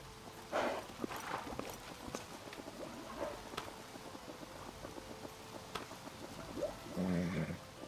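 Horse hooves clip-clop in the medieval video game Life is Feudal, a steady run of footfalls at moderate level with a few sharper sounds mixed in and no talking.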